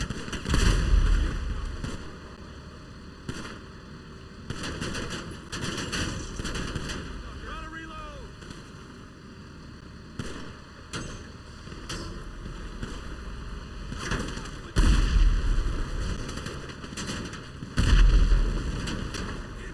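Gunfire in GTA 5 Online rings out in repeated loud bursts and booming shots spread unevenly across the stretch, layered with game noise and a person talking.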